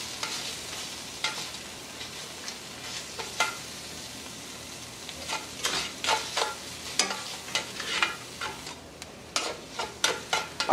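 Tomato paste sizzles in oil in a pot for braised oxtails, with a gentle steady fry under repeated scraping stirs that grow more frequent and rhythmic toward the end, close and fairly soft.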